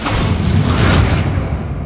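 A Bombarda blast spell goes off in Hogwarts Legacy: a loud, close, sustained booming explosion with a deep rumbling body that holds for well over a second before easing.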